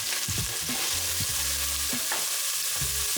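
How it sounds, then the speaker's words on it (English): Onion, garlic slices, curry powder and red pepper flakes sautéing in olive oil over medium-high heat for a Sicilian seafood soup, a steady close sizzle broken by several scraping stirs, with no talk. "Cook, stirring frequently until the onion softens, about 3 minutes."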